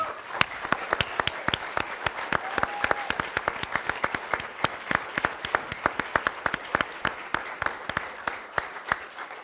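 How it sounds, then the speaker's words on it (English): An audience breaks into sustained applause for Anwar Ibrahim, a dense run of crisp hand claps, fairly close and steady throughout with no voices over it. "I suggest we give a round of applause to Anwar Ibrahim, the human being."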